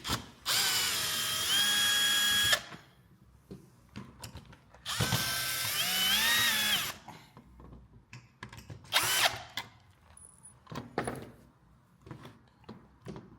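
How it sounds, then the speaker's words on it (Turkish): A power drill unscrews screws from vertical blind rails, two long whirring bursts of several seconds each, close and loud, followed by a shorter burst and assorted clicks of handling the metal parts. "Bu vidaları öncelikle söküyoruz."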